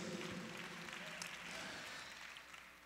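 Congregation at a morning worship service at a church convention clapping hands in praise, a dense, steady wash of applause that stays loud throughout and eases slightly toward the end, with no clear voices above it.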